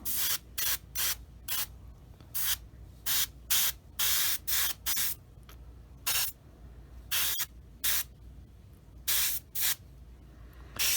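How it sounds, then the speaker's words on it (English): Spray primer from a can applied to Eduard 1/48 Bf 109E-3 model aircraft parts, in a series of short, close hissing bursts with brief pauses between them and no talking. "since I have the primer out, I'll go ahead and prime most of this"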